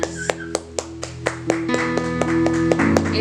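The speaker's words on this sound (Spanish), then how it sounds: "dile un fuerte aplauso, una ofrenda de palmas" A church congregation claps in a steady, regular beat over sustained music, the sharp claps evenly spaced and fairly loud.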